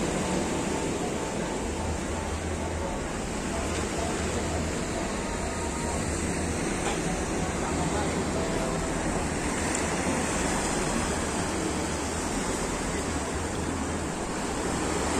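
Ocean waves break on a south coast beach in Malang as a steady, enveloping roar of surf that holds constant throughout, with no talking.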